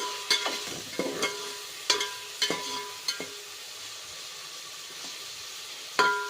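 A tempering of onions, tomato and green chillies fries in a pan for a simple rice dish, with a soft continuous sizzle and several sharp scrapes and knocks of a spoon stirring it, close by, with no talking.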